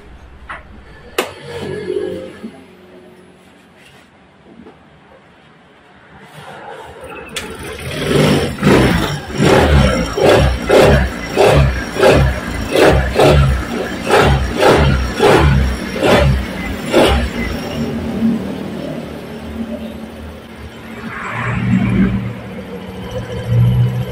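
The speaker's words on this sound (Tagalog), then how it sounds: "Subukan na natin paandarin yung motor ni boss" A motorcycle engine sputters to life after a quiet start, then revs loudly in a rapid series of throttle bursts, close by, before settling back down.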